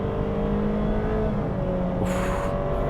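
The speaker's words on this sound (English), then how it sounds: "I'm just gonna floor it." A 2023 Honda HR-V EX-L compact SUV accelerates at full throttle, its engine drone steady and loud from inside the cabin, pitch rising gradually with a brief shift-like change partway through.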